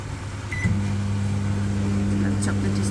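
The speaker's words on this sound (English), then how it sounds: "I'm gonna put it in the microwave and then bring it back." A microwave oven hums steadily while melting chocolates for a mousse, starting with a click and settling into a loud, even drone that continues throughout, with a voice briefly heard.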